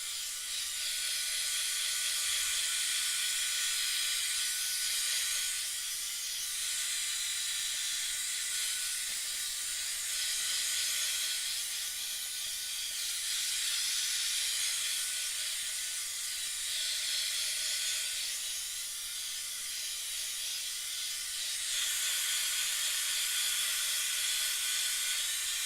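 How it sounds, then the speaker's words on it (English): A small space heater running, giving off a steady, loud, airy hiss that swells and eases slightly over a long stretch, close by with no talking. "All right, so I'm going to turn my little heater on."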